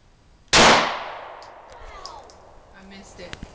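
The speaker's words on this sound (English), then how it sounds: "first shot with her new gun" A single loud, close gunshot from a new handgun fired at a target, with a sharp crack that rings out and decays slowly, followed by faint clicks and handling sounds.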